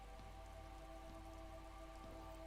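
Steady rain falls in the video game Disco Elysium, a continuous wet patter with soft scattered drop hits that hold an even, moderately quiet level under a faint tonal hum.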